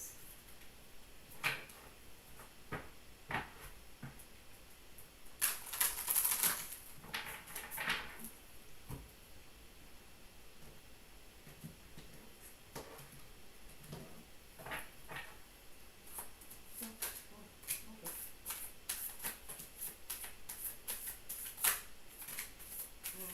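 Tarot cards are shuffled in scattered soft riffles and flicks, with a denser burst of papery snapping early on and lighter card taps and handling throughout, close and quiet.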